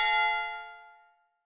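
A single bright notification bell ding, struck once and left to ring out, its clear metallic tone fading over about a second with nothing else around it.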